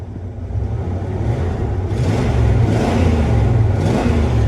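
A 1996 Ford engine with 300,000 miles revs steadily up close, a continuous mid-pitched engine roar that swells and holds without any voices.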